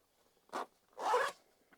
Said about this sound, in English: And you can zip that up.